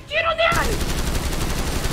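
Rapid automatic gunfire from a firefight in GTA V, a loud continuous burst of shots filling the clip after a brief snippet of in-game music or voice at the start.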